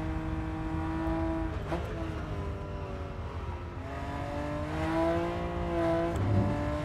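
A race car engine in the Rennsport racing game drones steadily at high revs, with its pitch climbing and then dropping sharply at each gear shift, about three shifts in all, loud and continuous with no talk.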